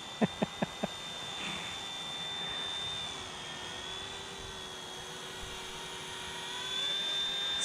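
A cheap, realistic RC helicopter flies close by with a steady high-pitched electric whine and a constant rotor buzz, preceded by four quick sharp clicks at the start.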